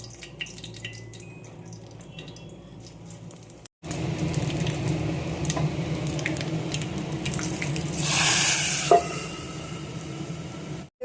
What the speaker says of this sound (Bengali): তো চলো এগুলো ভেজে নিই।